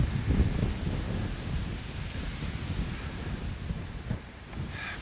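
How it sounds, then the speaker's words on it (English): Strong wind gusts by a lake in cool autumn weather, a loud, continuous roar buffeting the microphone and easing slightly toward the end, with no voices. "But it's just super windy down here and it's kind of cold."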